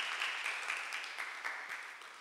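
Steady applause from a sizable church congregation after a worship service, a bright wash of many hands clapping together, slightly fading toward the end.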